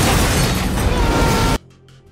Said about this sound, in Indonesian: terjadilah ledakan hingga membuat Santos tewas